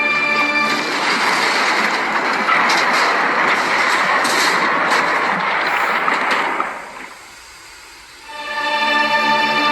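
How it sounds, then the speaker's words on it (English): Animated railway crash as a runaway train of tar wagons slams into an express engine: a sustained loud rumbling clatter and scraping that cuts off abruptly, a brief lull, then rolling rail noise again. "The brake van passed Gordon, but the tar wagons didn't."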